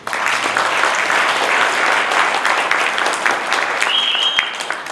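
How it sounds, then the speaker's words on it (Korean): An audience at a leadership gathering breaks into a full, sustained round of applause, many hands clapping steadily and fairly loudly from start to finish with no talk over it. "여러분 맞다면 박수 한번 보내주십시오."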